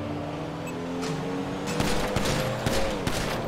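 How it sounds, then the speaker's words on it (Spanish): Gunfire in the online crime game GTA V Online, with several shots in a loose burst later in the clip over steady engine and street ambience. "¿Quién está disparando, bro?"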